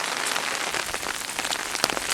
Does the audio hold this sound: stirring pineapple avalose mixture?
no